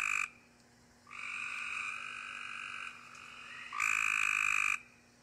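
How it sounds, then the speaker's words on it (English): High, buzzy Cope's gray tree frog trills ring out in several long bursts with short pauses between them, loud and close, with no other sounds. "And you can hear that's much higher pitched."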